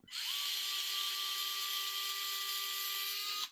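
A small power driver backs screws out of an Ascent 18 RC crawler, one steady high whine running about three seconds, close and loud, with no voices.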